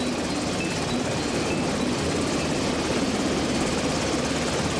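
A Mark III Seahawk helicopter flies at sea, its rotor giving a steady dense whir and throbbing chop, loud and continuous with no voices.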